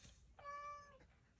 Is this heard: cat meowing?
yes